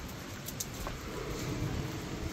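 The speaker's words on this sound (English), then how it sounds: "it's 63, cloudy and raining" Light rain falls outdoors on a cloudy, mild day around 63 degrees, making a steady, even hiss of drops on wet, puddled ground, with no talking.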